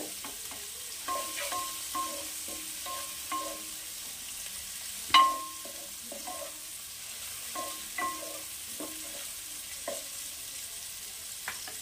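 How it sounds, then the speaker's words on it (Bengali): Tomato and chopped green chilli fry gently in oil in a pan, with a soft steady sizzle under repeated light scraping stirs and one sharper clink of the spoon against the metal midway through. "একটু ভাজা ভাজা হবে"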